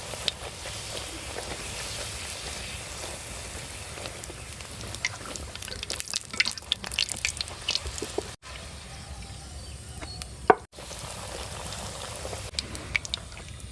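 Luchi, puffed flatbread, deep-frying in hot oil gives a steady, soft, close sizzle and crackle with scattered small pops and brief louder spatters, continuous throughout.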